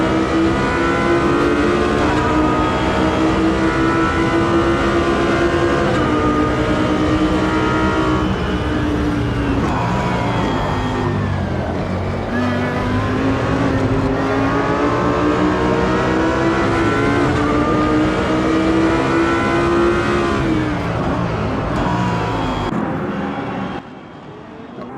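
A BMW GT3 race car in the Automobilista 2 racing game at Silverstone, its engine revving hard and steadily through gear changes, loud and continuous for the whole stretch with no talk.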